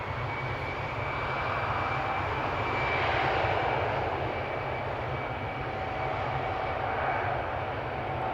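A steady, loud roar of an Air France airliner's engines at Amsterdam Schiphol airport, swelling slightly as it passes and holding broadband rumble throughout with no talk.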